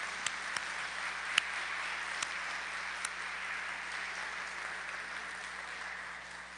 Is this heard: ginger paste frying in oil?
no